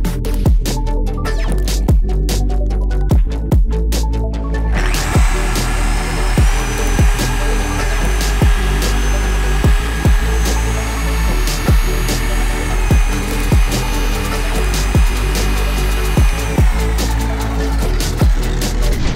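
Orbital polisher with a 15 mm orbit working heavy cut compound across the paint of a 25-year-old Peugeot 306, a steady close whirring drone with rhythmic pulsing as it sweeps, rising in pitch when the machine speeds up.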